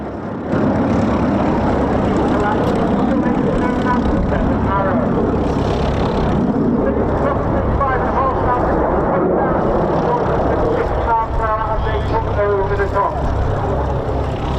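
A propeller aircraft with an Allison V1710 engine drones loudly and continuously overhead at an air show, its engine note holding steady with slight swells while people talk nearby.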